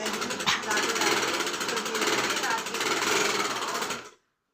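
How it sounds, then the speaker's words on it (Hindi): A sewing machine stitches a suit in a steady, loud mechanical rattle that runs for about four seconds before cutting off abruptly. "मैं कर रही हूँ अभी भी सिलाई का काम"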